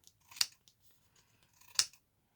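Scissors trim excess paper off a window envelope being altered for a floral journal: two crisp, close snips about a second and a half apart in a quiet room.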